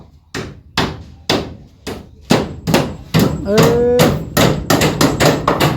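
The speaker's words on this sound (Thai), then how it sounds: "โอเคตอกได้" Heavy hammer blows strike a workpiece in a steady series, each loud whack ringing out, while workers talk briefly between strikes.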